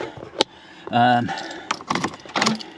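Car keys jangling close by in a short metallic burst, with a voice and tonal sounds partly over it.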